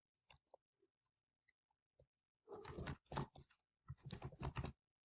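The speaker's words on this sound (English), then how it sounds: "I'm gonna type generosity here." Computer keyboard typing, a few scattered soft key taps followed by two quick dense bursts of clicking, close and fairly quiet, no talk.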